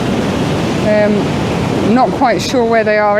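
Big sea waves break along the Northumberland coast in a steady, loud, broadband roar that runs throughout, with someone talking over it near the end.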